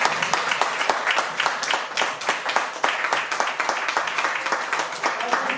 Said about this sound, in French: je vous demande encore une fois d'applaudir s'il vous plaît l'oiseau noir